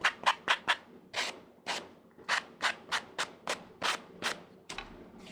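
Rhythmic scraping strokes of a sanding block rubbing back and forth on a surface, about a dozen quick passes, close and fairly loud.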